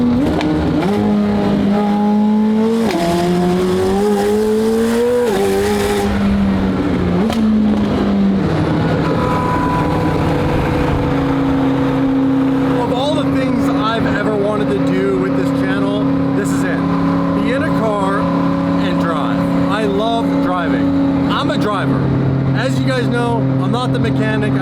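A loud McLaren Senna engine revs repeatedly, rising and falling in pitch, then holds a steady drone as the car drives on, with a voice talking over it.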